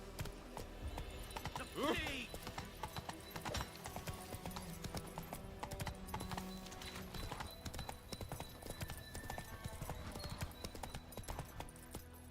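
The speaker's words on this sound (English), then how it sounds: "Whoa there, Roach." Horse hooves clip-clop at a steady walking rhythm in The Witcher 3 video game, quiet and continuous, with a brief whinny early on and character voices speaking over the steps.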